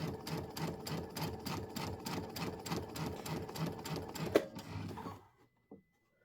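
A sewing machine set to medium speed stitches a quilted Christmas project in a steady, rapid mechanical patter, then winds down and stops, leaving quiet handling sounds.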